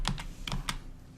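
Four quick keystrokes tapped on a computer keyboard, near and fairly quiet, evenly paced within about a second, with no talking.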